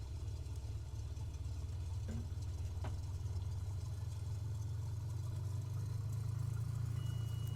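A small plane's engine idles just after ignition in Microsoft Flight Simulator, a steady, burbly, tractor-like low drone that runs close and unbroken throughout.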